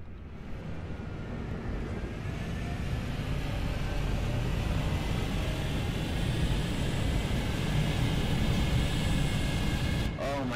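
Aircraft flying in the video game Planetside 2, a steady loud roaring engine drone that holds throughout with a brief higher whine near the end.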